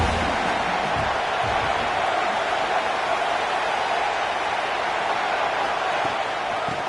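A large football stadium crowd of Buckeye fans roars continuously on a third down, a dense, loud, distant wash of cheering that holds steady throughout.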